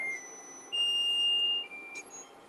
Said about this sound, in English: I'm gonna turn off the timer